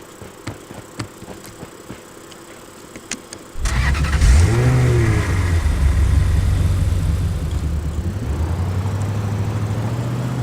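A car engine in the video game Rules of Survival starts loud and abruptly after about three seconds of quieter in-game sounds, then revs and drones steadily close up for the rest of the clip.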